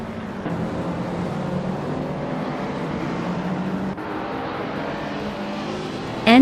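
Racing cars in a video game, including a Peugeot 207 GTI and a Mitsubishi Lancer Evo 6, hold a steady loud engine drone throughout, with a brief dip partway and a sharp rising rev at the very end.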